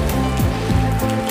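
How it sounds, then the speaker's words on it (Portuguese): Light rain falling steadily in Quixeramobim, a soft continuous patter and hiss with a low rumbling undertone, close and even throughout, no voices. "tá uma chuva bem leve em Xiramobim"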